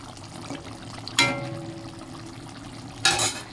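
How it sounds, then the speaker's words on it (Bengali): A pan of fish curry bubbles and simmers with a low, steady sizzle, broken by two brief stirring clatters. "মাছের ঝোলটা তো ফুটছে"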